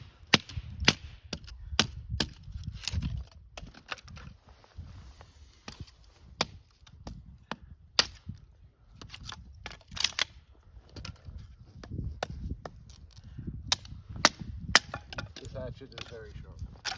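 A very sharp hatchet splits fat wood at a cold lakeside campsite, striking in sharp irregular cracks and chops spread over several seconds, close by, with low handling noises between strikes.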